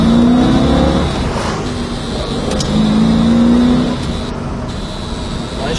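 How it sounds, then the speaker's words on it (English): A 1973 Ford Mustang drives along with its engine running smoothly and steadily, a close, continuous motor drone with slight shifts in pitch as it cruises. "Nice running car."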